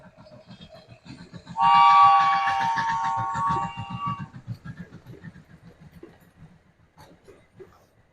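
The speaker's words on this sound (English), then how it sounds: "The train, hey." A train rumbles by with a rhythmic clatter of wheels over rail joints, and a loud horn blast sounds partway through before the noise fades away.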